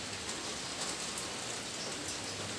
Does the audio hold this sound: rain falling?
yes